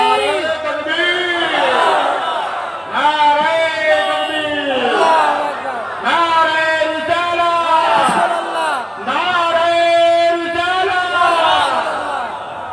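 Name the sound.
crowd chanting takbir slogan in response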